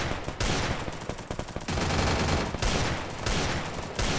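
Rapid bursts of automatic gunfire and repeated shots ring out in a competitive Counter-Strike match, loud and dense throughout with brief pauses between volleys.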